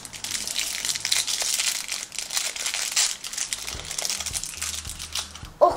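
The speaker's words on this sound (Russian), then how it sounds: "давайте откроем наш первый пакетик" Plastic packet from an LOL Glam Glitter doll ball being torn open, a steady loud crinkling and crumpling close by for several seconds, ending in a sharper rustle.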